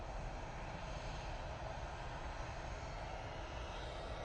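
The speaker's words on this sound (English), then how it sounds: "a plane down at the bottom." A plane passes low near Manchester Airport. Its engines make a continuous broad roar that stays loud and steady throughout, with no voices.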